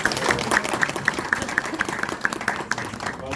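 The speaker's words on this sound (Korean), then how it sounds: "그렇지 않습니까? 박수 한번." People at a party members' meeting with a Korean National Assembly member clap together in a short round of applause, steady and fairly close, with no talk over it.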